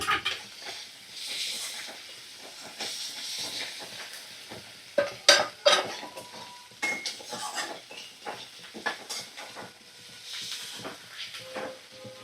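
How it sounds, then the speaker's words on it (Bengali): Spices and ginger-garlic paste sautéed in a pan over medium flame, with metal spatula clanks and scrapes in irregular bursts over a light hiss and sizzle, close by and with no talking. "সমস্ত মশলা আমি ভালো করে কষিয়ে নেব"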